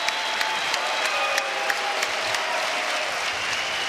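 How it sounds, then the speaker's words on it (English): Steady, dense applause from a large crowd at a PGL Cluj-Napoca Counter-Strike match between Astralis and FaZe, loud and continuous with scattered claps standing out, little talk. "give yourselves a full round of applause for that one."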